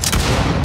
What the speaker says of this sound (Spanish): ¿Puedo disparar con la escopeta?